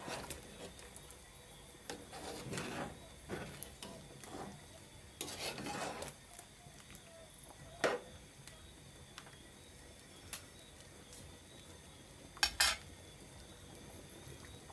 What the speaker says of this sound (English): Now I'm gonna give it a stir